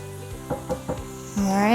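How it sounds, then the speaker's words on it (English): Butter melting in a hot pan for beef patties gives a brief scrape or two, then a steady close sizzle that swells at the end, with no talking. "add that little bit of butter"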